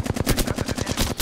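Automatic gunfire in a battle royale video game: a rapid, even burst of shots in a steady rhythm, close and loud throughout, with no speech.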